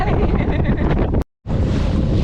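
Strong wind buffeting the microphone while a dinghy heads to shore, heavy roaring gusts filling the sound with a brief sudden dropout midway before the blustery rumble resumes.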